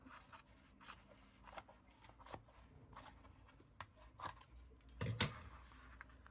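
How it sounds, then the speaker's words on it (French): Scissors snip through yarn for amigurumi doll hair in a string of separate crisp cuts at an irregular pace, close and fairly quiet, with a heavier snip near the end. "Voilà comment on coupe."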